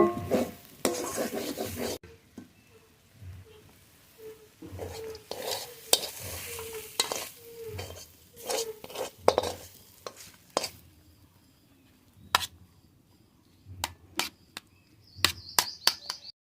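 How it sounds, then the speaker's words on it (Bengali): Kamli greens fry in a pan as a spatula stirs them in brisk, rhythmic scraping strokes over a crackling sizzle, followed by a few sharp taps against the pan, all near and with no speech. "নেড়ে নেড়ে শাক খুব ঝরঝরে করে ভেজে নিয়েছি"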